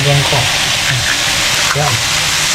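Two eggs hitting hot oil with frying bitter gourd (ampalaya) in a home kitchen: a loud, dense sizzle that swells as the eggs land, with a brief spatter burst near the start.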